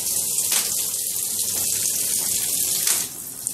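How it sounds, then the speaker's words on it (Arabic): Water pours steadily from a tap while bedding is washed, a loud, continuous hiss and splash with a few sharper splashes before the flow softens near the end. "هقفل المية"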